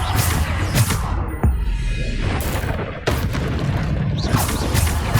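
The Bombarda explosion spell goes off in Hogwarts Legacy as loud, deep booms with rumbling blasts and crashing debris, packed close together over dense game noise.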